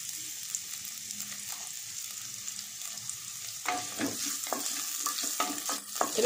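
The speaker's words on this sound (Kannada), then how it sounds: "ಸಣ್ಣ ಕಟ್ ಮಾಡಿರೋಂಥ ಒಂದು ಈರುಳ್ಳಿ ಹಾಕ್ತಾಯಿದ್ದೀನಿ" Finely chopped onion hits a couple of spoonfuls of hot oil in a pot, giving a steady close sizzle that turns busier after a few seconds as a spoon scrapes and stirs in irregular clatters.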